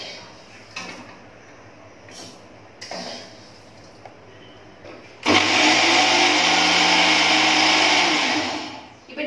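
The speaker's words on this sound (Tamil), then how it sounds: "நான் இப்போ மிக்சியில் இதை போட்டு அரைக்க" A mixer grinder switches on partway through and grinds dry ginger and coriander with a loud, steady whirring roar for several seconds before winding down, following quieter handling clatter.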